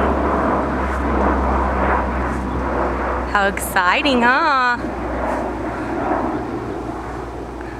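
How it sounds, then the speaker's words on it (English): An airplane passing overhead close to an airport gives a steady, broad rumble that lasts the whole clip, while an adult talks excitedly to a small child over it. "Oh my goodness, it's an airplane."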